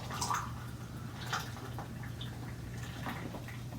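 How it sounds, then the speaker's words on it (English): Boiling-hot water poured for a cup of hot cocoa, a soft steady liquid trickle with faint drips and splashes running throughout at low level, with a steady hum underneath. "this is hot boiling water here"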